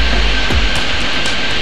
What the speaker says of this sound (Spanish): Venga, que vienen tres aviones.